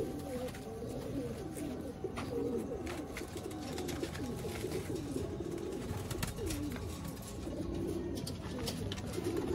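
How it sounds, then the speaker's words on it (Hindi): Sialkoti pigeons coo steadily in soft, repeated low phrases, with a light bird chirp now and then, close by and fairly quiet throughout. "इसके बाद ये भी प्रोफेसर इम्तियाज वाले कबूतर हैं।"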